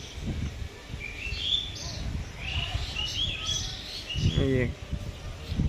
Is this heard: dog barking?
no